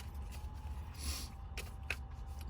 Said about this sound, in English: Sorry, I got the sniffles a little bit today.